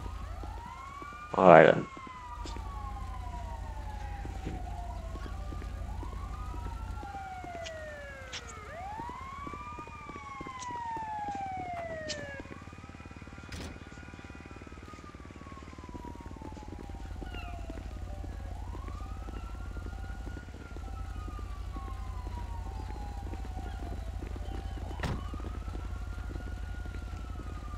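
Wailing emergency siren in the GTA5 police mod LSPDFR, rising and falling sweeps repeating steadily throughout at moderate distance, with a brief short remark spoken early and radio dispatch tones.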